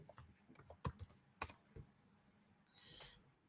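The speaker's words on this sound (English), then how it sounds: "what I'm going to do is I'm just going to type" Typing on a computer keyboard, a short quick burst of close key clicks followed by a soft rustle, alone with no voices.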